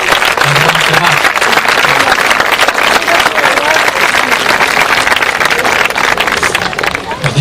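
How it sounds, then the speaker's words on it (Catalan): A loud outdoor crowd at a havaneres singing festival in Altafulla bursts into dense, sustained applause with cheering mixed in, close and continuous for several seconds. "Demanem un aplaudiment per al Pep, que cada any ens prepara el ron cremat."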